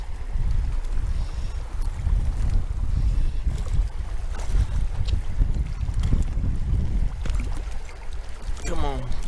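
Strong wind buffets the microphone on a lake while trout fishing from a boat, a continuous rough rushing roar with water sounds and someone speaking under it.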